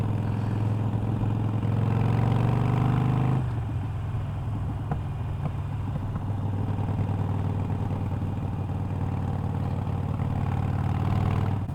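Harley-Davidson Iron 883 motorcycle fitted with short shots exhaust, its V-twin rumbling loud and close with a steady deep throb, pitch dropping slightly partway through as the engine settles.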